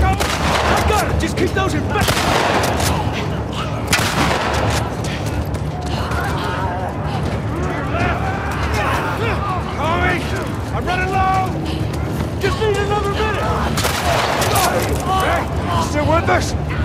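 Gunfire in The Last of Us Part II during a frantic firefight, with repeated loud shots and bursts cracking through over a long stretch while people shout and talk throughout.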